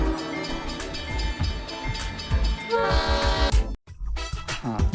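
Toy train ride at an amusement park rolls by loudly with rhythmic rumbling, clattering wheels and a tonal horn or whistle blast, then a brief silent gap before the noisy ride sound resumes.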